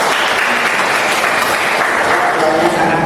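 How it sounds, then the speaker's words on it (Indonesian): Steady applause from a classroom audience for a student who has just recited Quran verses, a dense, even patter of clapping sustained throughout. "Beri aplaus untuk Fitri."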